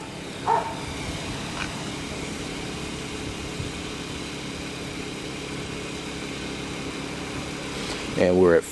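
A Kipor IG1000P inverter generator runs about 40 feet away as a faint, steady hum, with brief louder bursts near the start and end.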